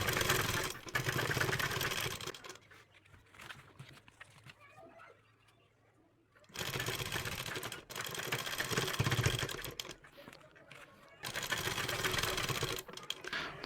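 A sewing machine runs in bursts while stitching the edge of an umbrella palazzo, a rapid mechanical whirr that starts and stops several times, with a quiet pause in the middle.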